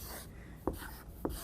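A number is handwritten, with soft steady pen scratching and two sharper taps as strokes land, heard up close and fairly quiet.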